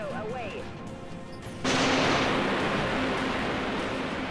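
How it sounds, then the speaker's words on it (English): A torpedo launch in the space combat game Dreadnought arrives as a sudden loud whoosh that swells into a sustained rushing roar with a low tonal hum, following quieter game sounds with faint whistling tones. "Torpedo away."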